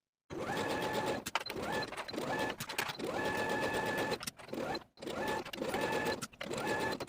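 A sewing machine stitches knit side and underarm seams of a raglan tee in quick whirring bursts, each run of a second or so broken by short pauses and clicks, close and fairly quiet.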